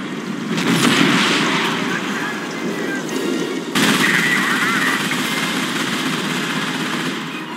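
Sustained machine-gun and rifle fire rattles through a Company of Heroes: Modern Combat battle between US Army and PLA forces, dense and continuous with a sharp burst near the middle, layered with distant rumbling explosions.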